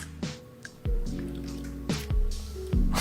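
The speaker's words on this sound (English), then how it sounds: "So we're gonna put some of these oils in those cups." Oils are poured into cups of water in a few separate short bursts of pouring and dripping, each starting sharply and trailing off, close and moderately loud with no talk.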